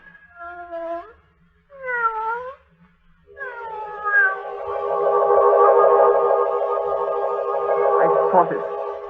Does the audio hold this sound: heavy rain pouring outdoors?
no